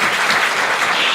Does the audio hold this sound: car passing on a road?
no